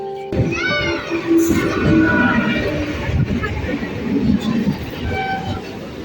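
At Berhampore Court railway station, a train rumbles loud and near, with a horn-like tone at the start and faint background voices over the steady rolling noise.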